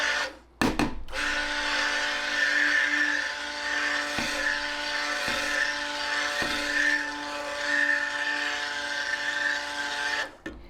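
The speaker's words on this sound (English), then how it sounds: "So my stick blender seems to be working well." Stick blender whirring steadily in soap batter for cranberry limeade soap, a continuous motorized drone with a few brief pulses and clicks when switched on and off, close and alone.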